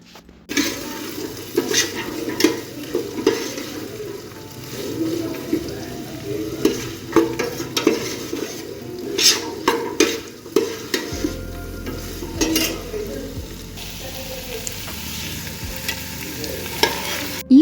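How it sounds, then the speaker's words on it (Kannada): Beans, carrot and knol-khol frying in oil in a pan, stirred with frequent scraping and clinking strokes over a continuous sizzle, close and fairly loud, with a low steady hum joining partway through. "ಹೀಗೆ ತರಕಾರಿಗಳೆಲ್ಲನೂ ಹಾಕ್ಕೊಂಡು ಇದು ಸ್ವಲ್ಪ ಎಣ್ಣೆಯಲ್ಲಿ ಫ್ರೈ ಆಗಲಿ."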